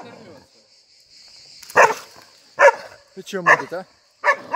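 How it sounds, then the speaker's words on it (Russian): A live dog barks several times in short bursts near a street where people ride bicycles, while someone talks between and over the barks. "Живая собака, а?"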